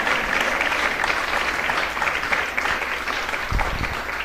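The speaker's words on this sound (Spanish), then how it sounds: "Y le damos un aplauso porque es bueno nuestro Dios" Church congregation applauding together, a steady dense wash of clapping hands that fills the room throughout, with a few louder claps standing out near the end.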